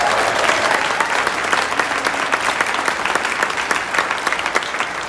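Dense, steady applause and cheering from a crowd at an outdoor political rally, loud and sustained across the whole stretch, with no speech over it.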